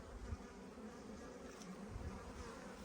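Honeybees buzzing at an open beehive during a hive inspection, a faint continuous low hum of many bees close by, with no talking.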